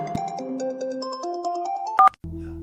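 A phone plays a melodic ringtone for an incoming call, a clear rising sequence of electronic tones ending in a sharp beep, then a brief low tone, near and alone.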